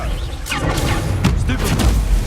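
A Confringo blasting spell going off in Hogwarts Legacy, a dense burst of whooshing and booming impacts layered over loud game music and effects.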